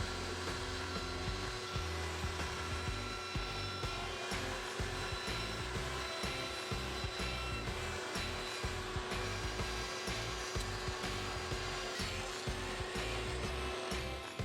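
A bandsaw fitted with a 1/4 inch blade cuts a circle from wood, giving a steady, dense whirring hum with fine gritty cutting noise that runs continuously and evenly throughout.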